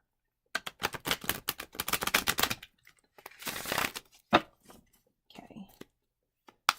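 Tarot cards being given a big shuffle: a quick run of crisp, close riffling clicks for about two seconds, then a few scattered slaps and rustles as the deck settles.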